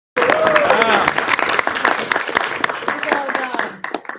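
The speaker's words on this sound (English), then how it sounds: "let's give another round of applause for Senate secretaries" A crowd applauds loudly at a senate meeting, dense clapping swelling then thinning out, with whoops and voices mixed in near the end.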